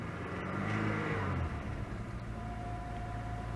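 An Oltcit Club 11R, a cheap bottom-of-the-range Romanian car, rolls off a trailer, its mid-pitched engine humming steadily and rising slightly before settling into a smooth drone.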